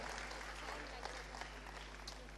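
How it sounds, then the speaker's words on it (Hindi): Dense applause from an audience at the Pravasi Gujarati Parv 2022 event, an unbroken wash of clapping with steady low hum underneath and voices faintly mixed in. "round of applause for Khanak"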